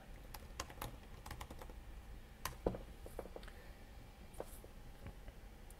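Someone types on a computer keyboard during JavaScript and React coding, a quiet run of irregular key clicks with one sharper tap partway through and no speech.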